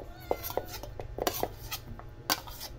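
A spoon mixes garlic and onion in a bowl for okoy, making a series of close, quick clinks and scraping rubs against the bowl, irregular and fairly quiet, with no talking.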